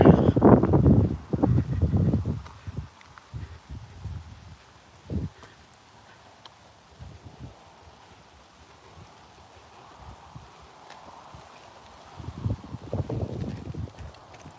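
Wind gusts buffet the microphone outdoors on a morning walking workout in New York, with loud rumbling bursts at the start and end and a quieter breezy stretch between.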